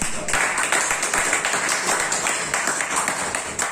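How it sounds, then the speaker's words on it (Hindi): Audience clapping at a presentation of an exercise machine, a steady burst of many hands filling the room for the full length, with some talk mixed in underneath. "इस मशीन के लिए एक बार जोरदार तालियां।"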